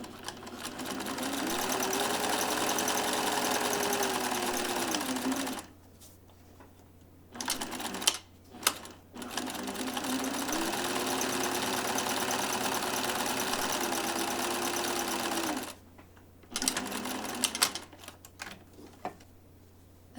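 A sewing machine stitches a buttonhole in a shirt, running in two long steady bursts of rapid mechanical whirring, each stopping cleanly, with short clicks and handling noises in the quiet gaps between.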